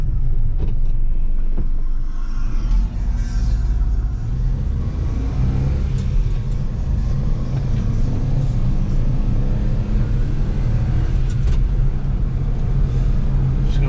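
A 1995 Honda Acty kei mini truck, converted to a fire truck, drives steadily, its engine rumbling low and constant throughout, with road noise and no voices.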